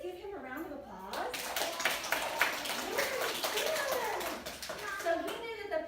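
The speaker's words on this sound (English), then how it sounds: "Can you guys give him a round of applause?" Young children at a school give a round of applause, a busy patter of small hands clapping for several seconds amid children's voices and chatter.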